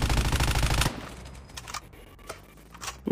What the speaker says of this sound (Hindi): मैं गोलियां की बौछार किए जा रहा हूँ, और खत्म हो चुका है यहाँ पे गोलियां।